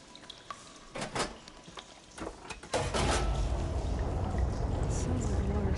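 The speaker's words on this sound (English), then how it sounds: "Sounds like the water switched." Water flow switching on in machinery in Horizon Forbidden West: a few faint clanks and knocks, then a sudden, steady broadband rush of water that continues to the end.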